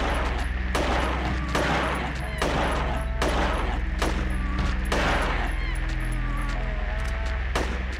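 Gunfire in the video game Silent Hill 3: a dense run of loud, sharp shots repeating at a steady rhythm over a low rumble, with a few brief tonal honks and tones mixed in near the end.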